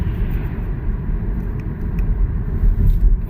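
MG5 electric estate car driving on a motorway in winter, a steady low road rumble and tyre noise from inside the cabin, continuous and fairly loud without any talking.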